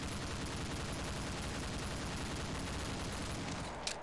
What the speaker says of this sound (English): we're doing a demonstration of the crazy turret against all these Blackhawks